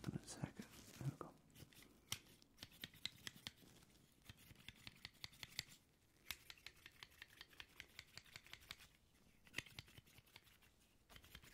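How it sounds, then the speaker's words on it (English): Soft, blunt scissors made for trimming around the face snip in a very quiet close setting, with rapid repeated cuts under soft whispering. "These scissors are designed to be rather, I'd say, soft or blunt"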